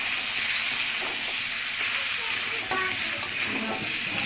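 Meat with spices, Malabar spinach and potatoes sizzles loudly in a pan at close range, a dense continuous frying hiss broken by scraping stirs and small pops.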